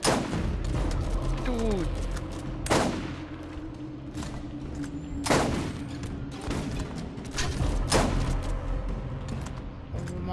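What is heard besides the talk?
turret firing missiles in video game Borderlands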